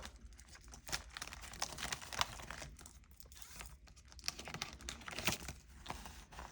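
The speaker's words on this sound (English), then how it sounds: "Let me just put it in the envelope." Cash is slipped into a paper envelope, giving soft, close crinkling and rustling with scattered light taps, faint and uneven throughout.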